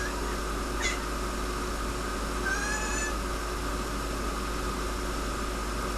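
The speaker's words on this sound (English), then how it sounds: "That is my cat." A pet cat gives two brief meows, one short call early and a longer, fainter one a couple of seconds later, heard over a steady electrical hum and hiss in a home radio setup.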